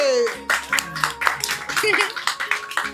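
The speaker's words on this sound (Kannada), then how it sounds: "ಹೊಡ್ರಿ ಚಪ್ಪಾಳೆ ಹೊಡ್ರಿ." Hand clapping in a rhythmic beat at a home Ganesha festival celebration, sharp claps repeating about four per second alongside a singing voice.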